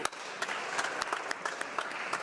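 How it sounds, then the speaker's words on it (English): A round of applause breaks out in the House of Commons on Parliament Hill during Question Period, a dense clatter of many hands with a few sharper claps standing out, steady and fairly loud throughout. "I invite my colleagues to give a round of applause for the representatives of credit unions visiting Parliament Hill today."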